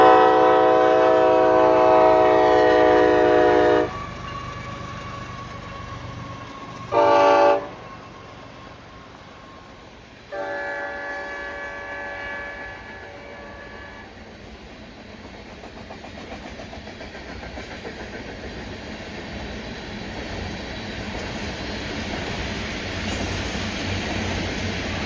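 A train led by a heritage-livery locomotive passes in falling snow with repeated loud horn blasts, followed by the steady rumble and clatter of the locomotive and loaded cars rolling by.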